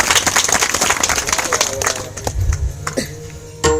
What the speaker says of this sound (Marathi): एकदा टाळ्या वाजवा त्यांच्यासाठी.